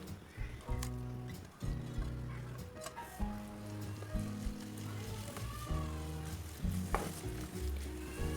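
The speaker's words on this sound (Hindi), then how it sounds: "दो मिनट तक भून लेंगे।" Grated raw mango sizzles and fries in four spoons of hot oil while being stirred, a steady crackling hiss running throughout, with a voice talking over the cooking.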